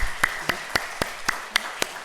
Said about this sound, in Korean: 우리 박수로 영광 올려드립니다.